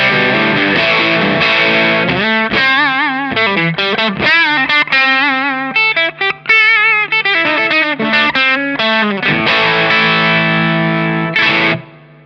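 An Emprize Harrier guitar amp on its distorted channel, gain and body both at about 2 o'clock, plays a loud, sustained overdriven guitar riff of chords and single notes, then rings out and cuts off at the end.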